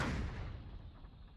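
A single heavy boom from an M119 howitzer firing an illumination round at the front line opens the clip, then rolls away into a fading low rumble over about a second.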